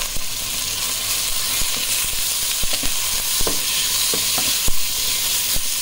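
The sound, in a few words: beef searing in hot oiled pan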